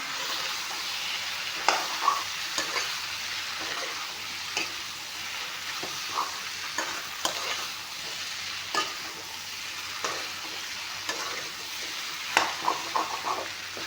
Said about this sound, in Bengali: বিলাহীখিনি দি দিছোঁ অলপমান ভাজি ল'ম তাতে বিলাহীখিনি ভালকৈ ভাজা যায়